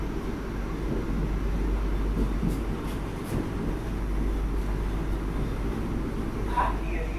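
A Vande Bharat express train idles at a platform at Kannur railway station with a steady low engine rumble, while people talk nearby and station noise hums in the background.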